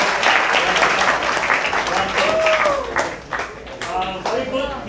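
A lecture-hall audience claps together in dense, steady applause for a student, with a voice briefly speaking over the clapping.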